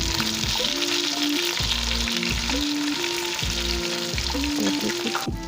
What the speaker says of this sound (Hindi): तो मेरी मछली अच्छी तरह से फ्राई हो रही है।